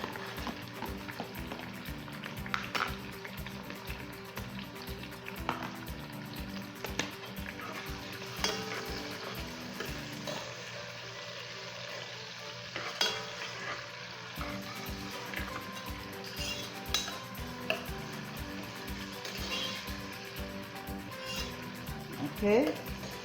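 Green onion, tomatoes and green peppers fry in a pan with a steady, close sizzle. Stirring scrapes and occasional utensil knocks come through, and the sizzling briefly dips partway through before returning.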